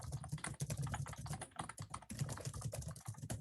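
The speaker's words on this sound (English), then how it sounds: "It sounds as though you're typing something" Rapid, irregular tapping on a computer keyboard comes through faintly, a dense run of light clicks with short pauses, heard alone without speech.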